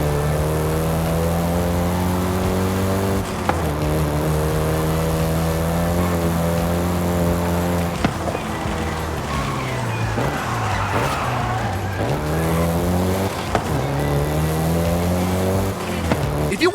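A Volkswagen Golf GTI driven in Forza Horizon 5, its engine loud and continuous, revving up through repeated climbs with abrupt gear-shift drops and a looser, scrabbling stretch midway.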